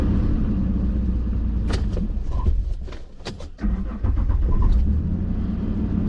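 A car drives along with the sound heard from inside, a steady low rumble of engine and road noise, briefly dipping midway and overlaid by scattered clicks and knocks in the cabin, with no talking.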